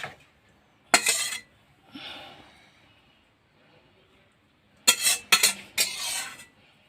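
Clinks of dishes and utensils as tomato-based sour curry of mourala fish is poured into a serving bowl: a sharp clatter, a softer scrape, then a quick cluster of three bright clinks, close and fairly loud, with quiet pauses between.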